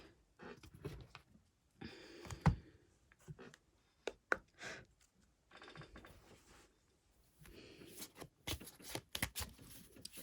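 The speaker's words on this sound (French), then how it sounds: "On va aller tirer des cartes, les anges de l'amour." Tarot cards are shuffled and drawn in soft, quick riffling bursts and light flicks, separated by short silences, close but faint.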